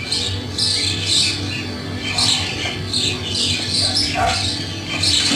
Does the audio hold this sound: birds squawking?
yes